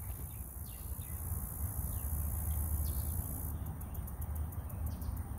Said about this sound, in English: Basically, grasshoppers everywhere.